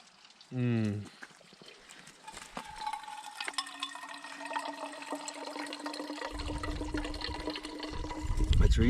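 Water runs and trickles at a mountain spring on a Catskills hike, a steady close wash building louder toward the end, with voices and other noises over it.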